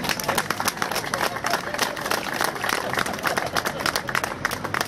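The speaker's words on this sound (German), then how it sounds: "in diesem Sinne schon mal ein Applaus für die Kollegen aus Schweden" Clapping from a crowd at an outdoor vigil in Braunschweig, a dense steady patter of many hands lasting throughout, fairly distant and even in level.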